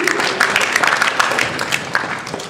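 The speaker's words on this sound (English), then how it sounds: "Please round of applause." Audience applause at an anime convention's opening ceremonies, a steady wash of hand claps filling a large room, with scattered louder claps and faint crowd murmur underneath.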